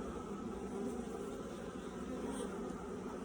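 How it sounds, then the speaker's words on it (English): Honey bees crowd a beehive split, filling the air with a dense, continuous buzzing drone that stays steady and close throughout, with no talking. "It's a bunch of bees."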